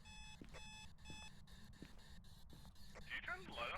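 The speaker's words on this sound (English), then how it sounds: "It's setting an alarm off somewhere." An alarm beeps in repeated short pulses in the Phasmophobia ghost-hunting game, regular and fairly clear over a quiet rumbling background, with a brief rustling burst near the end.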